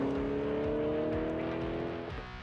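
A Chevrolet Corvette with a 6.2-litre V8 holds a steady, throaty engine drone at constant revs, loud and close, then the pitch dips and eases off near the end.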